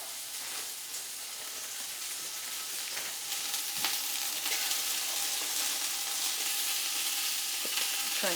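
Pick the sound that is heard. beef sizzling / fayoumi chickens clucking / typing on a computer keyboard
beef sizzling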